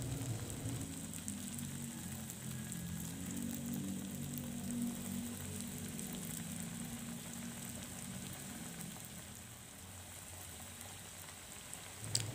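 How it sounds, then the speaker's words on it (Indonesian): Crispy egg omelette batter frying in hot oil, giving a steady, close sizzle and crackle that keeps going without a break and without talk. "Oke, lanjut saya goreng lagi sisanya."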